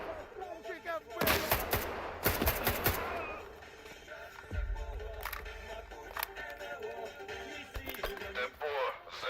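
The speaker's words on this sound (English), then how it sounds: "Somebody shooting at me?" Gunfire in the S.T.A.L.K.E.R. 2 video game: a cluster of sharp shots in quick succession, followed by scattered single cracks against quieter game ambience, with speech in between.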